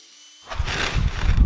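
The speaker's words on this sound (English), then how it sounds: "I'm just going to drill a little bit, just kind of mark where it needs to be at." A power drill bores short pilot holes into wood to mark spots for lazy susan turntable hardware, starting abruptly after a quiet moment and whirring loudly and close for about a second.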